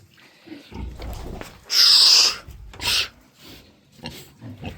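Large White and Landrace cross piglets grunting and squealing close by, with one loud, shrill squeal in the middle and softer snuffling grunts around it.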